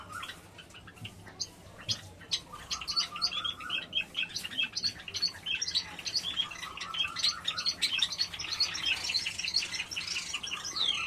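Java sparrows in an aviary chirp and tweet in quick, overlapping bursts that grow busier and louder, a dense nearby chatter of small birds.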